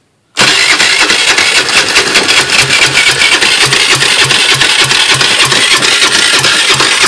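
Roketa Bahama 50cc moped engine starting, cutting in abruptly after brief silence and settling into a loud, rapid, buzzy putter that runs unevenly with small fluctuations, close by and without speech.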